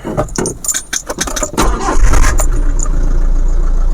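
A car engine cranks and catches after a brief jangle of keys, then settles into a loud, steady idle close by.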